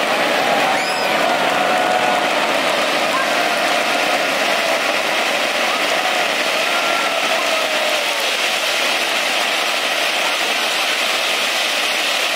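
Wedding guests at a hotel reception break into steady, loud applause that stays dense and even for the whole stretch, with faint crowd murmur beneath.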